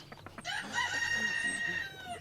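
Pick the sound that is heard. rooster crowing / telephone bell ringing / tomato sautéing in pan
rooster crowing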